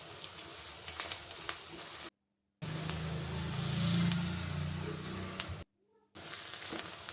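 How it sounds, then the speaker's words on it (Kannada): Curry leaves frying in hot oil in a pan for quick chitranna rice, a steady close sizzle broken by two short silent gaps. "ಕರಿಬೇವು ಅಷ್ಟೇ ಫ್ರೈ ಮಾಡ್ಕೋಬೇಕು"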